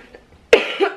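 A single sharp cough bursts out midway, followed by a short throaty rasp and a second smaller cough, close and loud in a quiet room with no talking.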